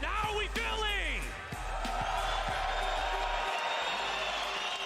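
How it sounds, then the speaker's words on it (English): Crowd at the Warzone Global Finals esports event in London, a loud sustained roar of cheering and whooping from a large audience under a host's amplified voice over a steady low hum. "the crowd is electric"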